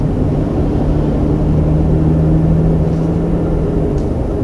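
A 3rd gen Toyota Tacoma cruising on the road with an engine tune, heard as a steady low drone and road rumble from inside the cab, constant and fairly loud with no speech.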